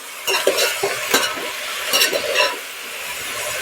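Chopped chakvat greens going into a hot pan for a Maharashtrian mixed-vegetable curry, a bright sizzle with several scraping, clinking stirs of a spoon against the pan, settling into a steady fry.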